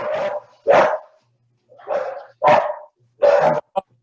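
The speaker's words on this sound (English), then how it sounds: "the dogs are barking." Dogs barking in short bursts, five loud close barks spaced irregularly with pauses between, plus a brief yip at the end, no talk.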